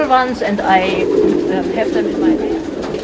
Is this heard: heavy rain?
no